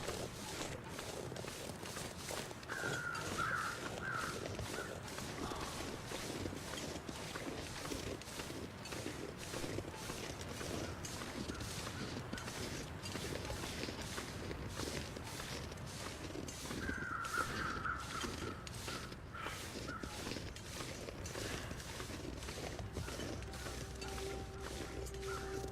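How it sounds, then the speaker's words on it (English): Crows caw in short bursts in the survival game The Long Dark, two raspy calls separated by a long gap, heard over a steady outdoor wind and crunching footsteps. "Oh, great crows."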